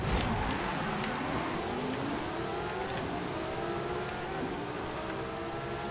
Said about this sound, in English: So with the car started